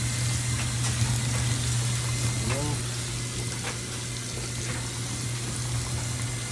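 Water runs steadily into a container for soaking carpet cleaning bonnets, a constant rushing pour with a low hum underneath and brief voices over it.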